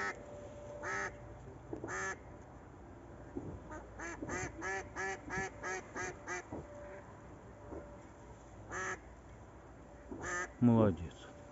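A young duck of this year quacks in a series of rapid, bright calls, near and fairly loud, with pauses between bursts and a harsher squawk near the end; a person talks briefly in the background.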